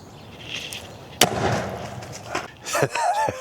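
Black powder ejection charge of 2 grams fired in the drogue bay of a 3-inch Punisher fiberglass rocket during a ground test, one sharp loud bang followed by rattling debris, with voices reacting right after.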